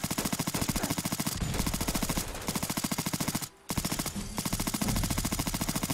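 HK416 rifle gunfire in the video game Fallout 4 rattles in rapid sustained automatic bursts, loud and close, with one brief pause partway through.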